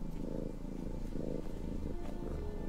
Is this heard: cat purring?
yes